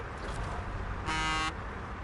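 A truck horn in the video game SnowRunner gives one short, buzzy honk of about half a second, heard over a low engine rumble.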